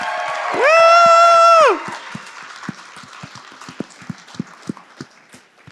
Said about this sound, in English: you better fucking applaud right now for this guy